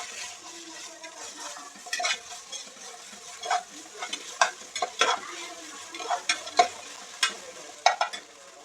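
Onions with ginger garlic paste frying in a pan for mushroom biryani, a soft steady sizzle broken by frequent scraping stirs of a spoon against the metal, close and alone.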